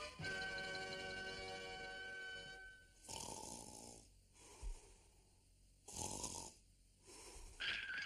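Cartoon snoring from a sleeper, several loud drawn-out snores with wheezy whistling tones, separated by short quiet gaps, heard alone with no talk.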